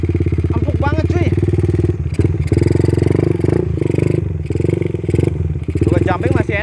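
A motorcycle is ridden over rough, unfinished asphalt, its engine putting out a steady, rhythmic pulsing drone that dips briefly and picks up again, with someone talking over it.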